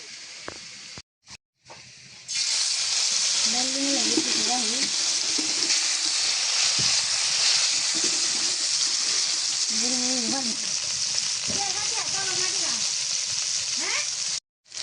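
Pieces of glass carp frying in a pan give a loud, steady sizzle and hiss after a few brief knocks at the start, with a voice talking intermittently over the spitting oil.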